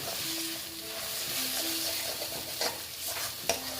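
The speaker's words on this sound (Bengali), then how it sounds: "এবার আবার মশলাটাকে আমি ভালো মতো কষিয়ে নেবো" Spice masala with Kashmiri red chilli powder sizzles in a pan while being stirred, giving a steady close frying hiss broken by scraping strokes and a couple of sharper clinks of the spoon.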